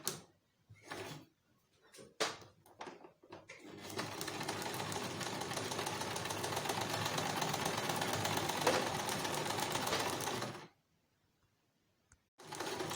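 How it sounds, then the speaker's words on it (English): A sewing machine runs gather stitches along fabric for a skirt, a steady close mechanical whir lasting about seven seconds, preceded by a few brief handling clicks and thumps and stopping abruptly into silence. "I'll just let my foot down and start running my gather stitches"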